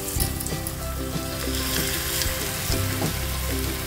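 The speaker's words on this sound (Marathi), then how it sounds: "आता तेल तापलंय, आपण बांगडा सोडून घेऊया।" Stuffed bangda mackerel fries in a pan of hot oil with a loud, close, continuous sizzle and crackle, and a few sharper pops rise above it.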